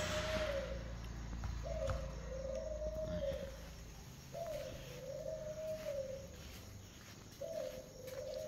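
A breeding pigeon gives repeated drawn-out cooing calls, four long wavering hoots in a slow rhythm, close and clear over a faint background hum.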